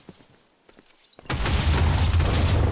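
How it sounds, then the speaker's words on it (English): A nuclear grenade explodes in a hardcore Minecraft apocalypse world: after a quiet stretch with faint thumps, a huge, deep, roaring blast erupts and rumbles on loudly to the end. "What did you just throw? A nuclear grenade."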